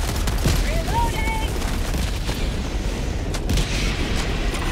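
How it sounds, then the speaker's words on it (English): Artillery barrage in the video game Helldivers 2, with a dense continuous rumble of booms and blasts layered with weapon fire and game effects, loud and sustained throughout. "This is my big barrage, though, so we don't know where it's gonna hit."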